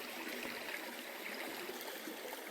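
A cold river on Stewart Island flows as a steady, dense rush of water, close and even, with a fine bubbling hiss and no voices.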